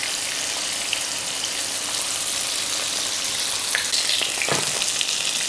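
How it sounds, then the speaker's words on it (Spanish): Sardines fry in a pan of hot oil, giving a steady, dense sizzle with crackles and a few louder pops near the end, close and continuous throughout with no talk. "Y en el mismo aceite iremos friendo el resto hasta terminar con todas."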